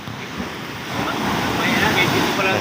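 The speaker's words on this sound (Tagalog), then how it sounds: "Dagat na yun," Sea waves washing onto a shore about fifty meters from a house, a steady near wash of surf with wind noise over the microphone, heard alone and swelling slightly louder partway through.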